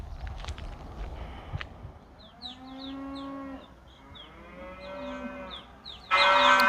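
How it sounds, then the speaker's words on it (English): Cattle on a Montana cattle drive mooing in several long, drawn-out bellows, fairly close and loud over a quiet outdoor background with faint footsteps, ending in a sudden louder bawl. "back with the cows, it looks like they are finishing up their work and the cows will be heading home"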